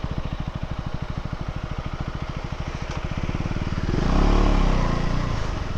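A 2024 KTM Duke 390 motorcycle rides slowly through tight U-turns, its engine thumping in a steady close pulse before swelling into a louder, smoother rev near the end.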